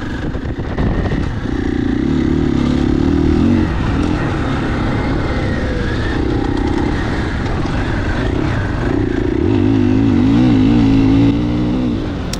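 A 2021 KTM 500 EXC-F dirt bike being ridden, its engine droning loudly and continuously close by, rising and falling through repeated revs and gear changes.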